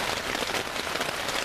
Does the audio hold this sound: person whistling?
no